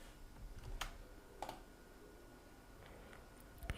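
Someone types an email address on a computer keyboard. Faint, scattered key clicks come in small irregular groups over a quiet room hum.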